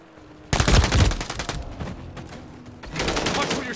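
Gunfire in the video game Call of Duty MWIII multiplayer: a loud sudden burst of rapid automatic shots, tapering into scattered fire, then another close volley near the end.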